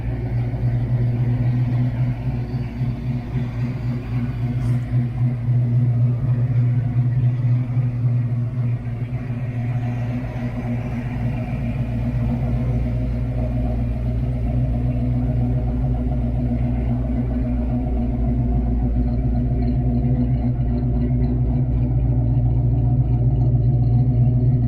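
A Ford Mustang Foxbody engine idles smoothly and steadily up close, a deep even rumble holding without change for a long stretch, no voices.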